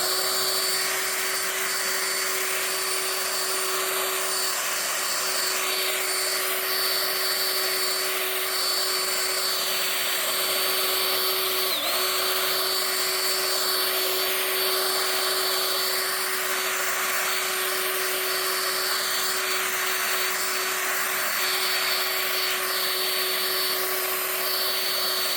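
A cordless battery-powered leaf blower runs continuously at a steady, loud whine with a constant tone, close by and alone, with no pauses or speech.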